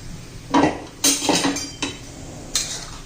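A few clattering splashes and metallic clinks of soaked rice tipped into a pot of boiling water, in short bursts with pauses between.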